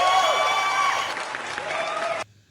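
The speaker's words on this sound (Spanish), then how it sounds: "Recibamos con un fuerte aplauso a los creadores de Special Capacitor" A studio audience on a television program applauds and cheers to welcome guests, with sustained clapping and whistling tones that cut off abruptly near the end.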